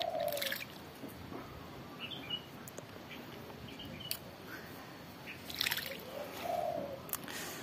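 A Javan myna (jalak kebo) bathes in water at midday, giving soft splashes and drips against a quiet background, with a few short chirps and calls scattered through and bursts of louder flapping splashes near the end.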